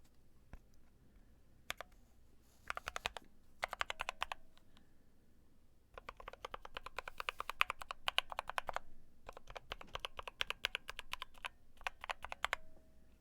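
Typing on a GMMK Pro mechanical keyboard: bursts of crisp, close key clicks separated by short pauses, with a longer stretch of rapid keystrokes in the middle and no talking.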